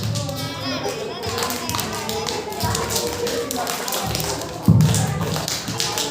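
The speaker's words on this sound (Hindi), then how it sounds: "साइड ताली ऊपर ताली" Group clapping to the side and overhead in a yoga session, with regular taps and claps alongside children's voices and shuffling, including one louder thump.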